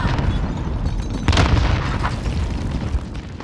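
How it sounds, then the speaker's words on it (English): A grenade goes off in a multiplayer shooter video game, a loud dull boom around the middle of a dense, noisy stretch of game sound that stays busy throughout. "Grenade."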